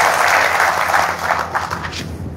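A large audience at a journalists' gathering in Dhar, with a cabinet minister present, bursts into dense, sustained applause for a guest. The clapping is loud and continuous and tapers slightly toward the end.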